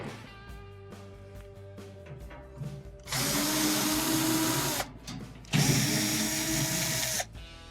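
A power driver whirs in bursts while backing out perimeter screws from a Crosley washer cabinet, starting with short quiet pulses and moving to two long, loud spinning runs with a gap between them.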